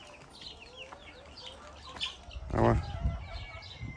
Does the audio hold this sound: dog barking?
no